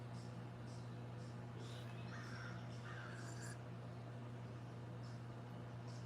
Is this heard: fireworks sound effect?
no